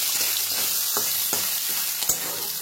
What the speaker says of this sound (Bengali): নারকেলটা একটু ভেজে নেব।